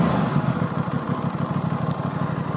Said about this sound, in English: The engine is a parallel twin with 270-degree crank, which is responsible for this awesome stock sound.